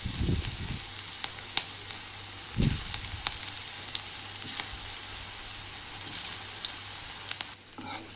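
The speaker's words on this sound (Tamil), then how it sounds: "இதில் மிக்ஸ் பண்ணி வச்சுருக்க வாழைப்பூவை இப்போ நம்ம ஆட் பண்ணிக்கலாம்" Banana flower fritters sizzle steadily in hot oil in a kadai. The crackle swells briefly as more pieces drop in, with the frying loud and close throughout.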